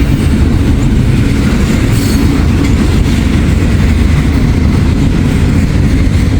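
A freight train of double-stack container cars rolls past very close and loud. A continuous heavy rumble of wheels and rattling cars fills the whole stretch without a break.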